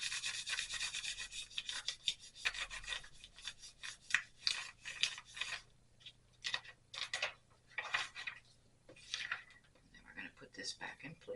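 Tops of small polymer clay pieces are burnished by hand, producing soft, close scratchy rubbing strokes in quick irregular bursts, faint and intimate, with a quiet background hum.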